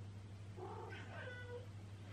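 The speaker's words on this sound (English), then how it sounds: "you can hear a cat in the background there" A cat meows once in the background, a short clear call rising and falling in a quiet room during a sewing session, with no other sounds over it.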